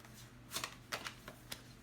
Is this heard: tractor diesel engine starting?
no